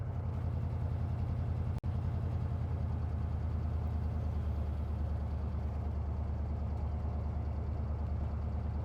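A car engine under light throttle while driving hums low and steady, a smooth rumble with one brief click early on and no voices.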